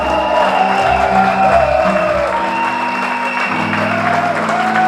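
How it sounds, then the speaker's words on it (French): A church congregation applauds loudly and steadily for Jesus Christ, a dense wash of clapping from a crowd with scattered cheers and music underneath. "Acclame très fort Jésus-Christ de Nazareth"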